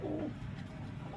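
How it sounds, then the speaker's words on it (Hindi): A teddy pigeon, a breed offered at a bird sale in Lahore, gives a soft, low cooing call up close, a brief throaty coo followed by steady background murmur. "सलारा कबूतर"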